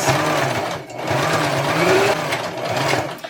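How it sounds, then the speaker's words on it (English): A sewing machine runs steadily and close, stitching together the folded edges of a Christmas tree quilt block potholder, its motor whirring loud with brief slowdowns. "And then we'll stitch it together on the opened folded edges."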